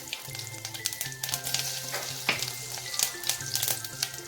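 Mustard seeds, cumin and fennel seeds sizzle steadily in hot oil, a dense crackling fry with scattered sharp pops from the seeds, close and continuous with no voices.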